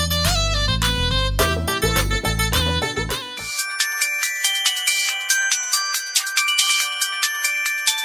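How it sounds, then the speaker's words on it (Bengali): A mobile phone rings loudly with a bright electronic ringtone melody, at first over a heavy bass beat and then as a thinner repeating chime pattern, with no voices. "এই ফোন দি বাজতে আছে"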